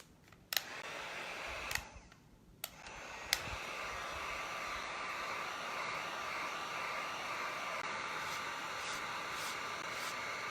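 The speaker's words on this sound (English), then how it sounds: "get the heat gun and finish it off" A heat gun blowing steadily to dry an Easter bunny craft project, a loud continuous airy roar after a few sharp handling clicks at the start, close with no talk.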